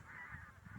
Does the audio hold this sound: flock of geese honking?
yes